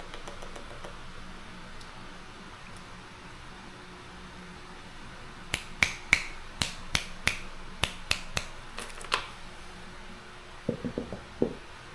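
Finger snaps used to trigger a sound-reactive car ambient light: a quick run of about ten sharp, close snaps in a steady rhythm, then a short cluster of softer ones, over a faint fan-like hiss.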